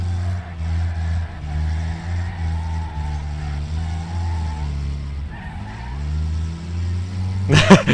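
A race car in the Wreckfest video game brakes and skids, its loud steady engine drone dipping in pitch partway through, with tyre scrub and a sharp burst of noise at the very end.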